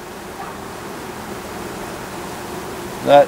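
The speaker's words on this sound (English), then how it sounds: "So this is actually a hive that swarmed last year, and it was up a tree, so I caught it." Honey bees buzzing steadily at an open hive that is preparing to swarm, a constant close drone with a brief louder buzz near the end.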